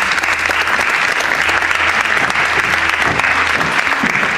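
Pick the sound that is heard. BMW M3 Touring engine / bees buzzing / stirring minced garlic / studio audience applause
studio audience applause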